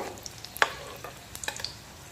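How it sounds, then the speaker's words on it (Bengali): Quiet frying sizzle of a veg mini Mughlai paratha on a pan over medium flame, with a few sharp clicks and scrapes of a utensil moving food; no talking. "মিডিয়াম ফ্লেমে ভাজলে কিন্তু এই টিফিন বলুন বা মোগলাই পরোটা খুব সুন্দর কিন্তু ক্রিস্পি হবে।"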